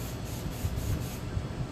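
Vegetable oil cooking spray hisses into a plastic bag in one soft, continuous spray of under two seconds, fairly quiet and close.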